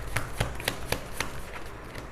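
Tarot cards being drawn and shuffled by hand during a reading, a run of sharp, close card snaps and slaps in quick irregular succession, with no voice.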